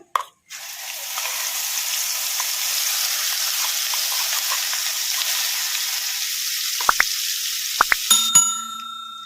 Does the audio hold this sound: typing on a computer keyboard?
no